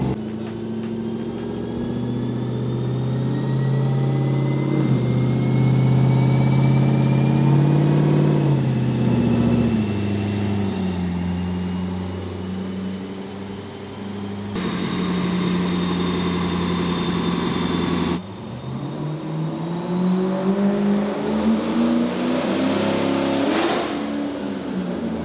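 A Mercedes with a swapped LS3 6.2L V8 revs on a dyno during its first pull, the loud engine droning and climbing steadily, dipping and picking up again before falling back toward idle, with no talking.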